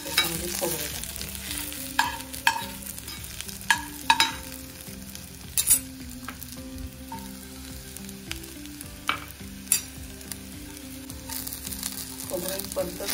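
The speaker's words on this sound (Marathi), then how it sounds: "हा कांदा मी बाजूला घेते आणि मग त्याच्यामध्ये खोबरं टाकते।" Grated coconut sizzles steadily in a pan where onions were just sautéed, with repeated scraping and knocking of a spoon as it is stirred, at close range and with no voices.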